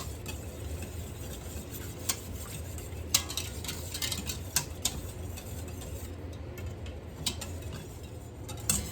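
A whisk scrapes and taps against the pot of an Instant Pot while stirring yogurt and condensed milk, producing a steady run of light clicks and ticks with a few sharper metallic knocks, close and alone.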